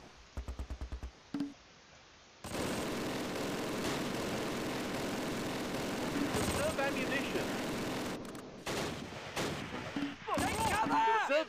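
Battle gunfire in the Close Combat: Last Stand Arnhem video game, a steady dense roar of shots and explosions, with sharp bursts near the start and end and brief gaps between.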